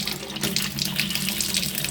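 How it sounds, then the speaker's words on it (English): Strong stream of water pouring from an Enagic water machine, a loud, steady hiss and splatter that runs continuously without any talk. "the water output is actually pretty strong"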